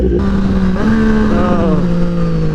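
A 2020 Triumph Street Triple 765 RS motorcycle engine idles and revs close by, its throaty exhaust note rising and falling steadily.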